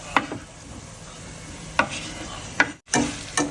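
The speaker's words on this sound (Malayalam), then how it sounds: "ഇനി നമുക്ക് സോസേജ് ഉരുളക്കിഴങ്ങ് കൂടെ ചേർത്ത് നമുക്ക് ഫ്രൈ ചെയ്യാം" Sausage and potato pieces frying and being stirred in a pan, a steady low sizzle broken by several sharp utensil clacks and scrapes against the pan, close and without speech.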